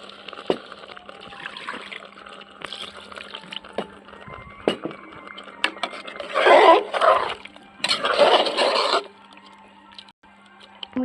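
Water is poured and mixed into finely ground masala for goat curry, with two short, loud gushing bursts standing out against quieter kitchen clatter and soft handling noises.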